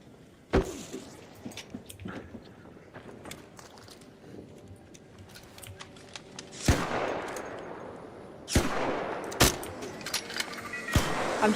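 Anvil weapon fire in a video game comes as sharp, loud cracks, first a lone shot, then heavier blasts spaced a couple of seconds apart amid lighter clicks and rattles, with no speech.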